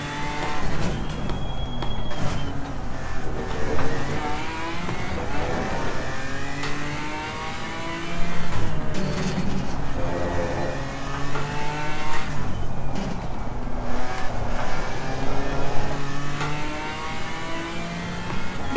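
A BMW M4 GT4 race car engine on track in Assetto Corsa Competizione, revving up and down through gear changes in repeated rising sweeps, loud and close without any talk.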